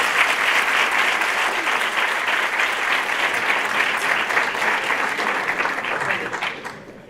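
Strong audience applause at a tarot congress in Barcelona, dense steady clapping from a full room that holds loud and even for about seven seconds, then tapers off at the very end.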